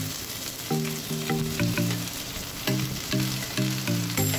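Sliced okra (bhindi), about a kilo, sizzles steadily in hot oil, a continuous loud frying crackle with some stirring and clinking, no voices.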